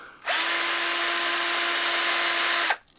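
A handheld power tool spins steadily against 320 grit sandpaper, a loud continuous whir that starts abruptly, holds an even pitch for about two and a half seconds, then cuts off.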